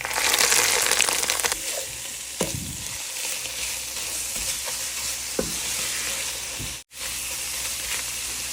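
Leafy greens fry with dried chillies in a pan, a continuous crackling sizzle with occasional scraping stirs and a brief dip near the end; no one speaks.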